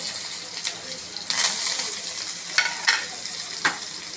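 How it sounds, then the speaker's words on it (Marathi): Garlic and red chillies crackle and sizzle in hot oil for a dal tadka with mustard seeds and asafoetida, a steady frying hiss with several sharp pops and spurts rising above it, close and fairly loud. "थोडं हलवून घेऊ मस्त तडका बसलेला आहे आपला"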